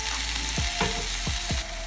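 Cumin, onion and tomato fry in olive oil with a steady, dense sizzle, broken by a few soft stirring scrapes in the pan; close and fairly loud, no voices.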